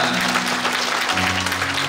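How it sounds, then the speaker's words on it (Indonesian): Church retreat audience applauding during a worship plenary session, a dense steady wash of clapping with a faint sustained musical tone beneath. "beri tepuk tangan buat Tuhan"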